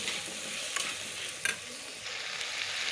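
Shrimp, potato and green banana frying in a pan under a soft, even hiss, with a few quick clicks of a spoon stirring.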